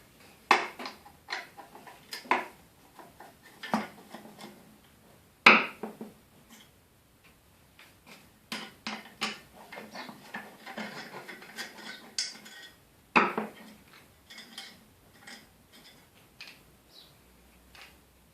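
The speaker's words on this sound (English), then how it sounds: "I'm going to use the time to strip all the bits and bobs off this mitre gauge bar" Metal parts being stripped off a mitre gauge bar for a router table upgrade: irregular clicks, taps and clanks of small fittings and tools, with a couple of sharper knocks, close up and without speech.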